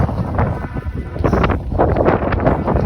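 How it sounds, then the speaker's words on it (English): Strong gusting wind at Weverton Cliffs buffets the microphone with loud, rough roaring bursts that swell and fade throughout. "As you can see, it is a blustery day, as Winnie the Pooh would say."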